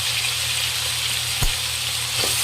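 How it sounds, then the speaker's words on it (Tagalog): Steady close-up frying hiss of carrots and potatoes in oil with meat, broken by a couple of soft knocks as they are stirred. "So, piprituhin din natin, sabay natin ng carrot at patatas."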